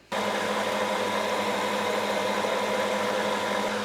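An electric mixer whips cream into butter with a steady, droning motor hum. It starts abruptly and holds at an even, continuous level throughout, with no voices.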